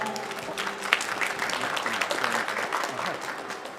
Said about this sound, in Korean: 여러분 따뜻한 박수 부탁드립니다